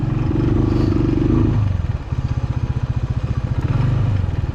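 A motorcycle engine idles right after starting, first revving smoothly then settling into a loud, close, rapid chugging pulse.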